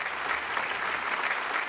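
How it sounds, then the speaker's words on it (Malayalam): Applause from a local crowd at a game-show taping, a steady dense wash of clapping with no breaks, moderately loud throughout. "അതാ നാട്ടുകാരുടെ വകയായിട്ടൊരു കയ്യടി"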